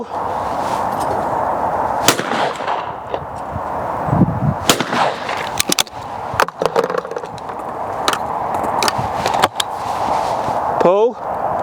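Several sharp, loud shotgun reports from a Beretta 686 Silver Pigeon fired at clay targets at a shooting-ground stand, spaced irregularly, with voices calling and talking outdoors between the shots.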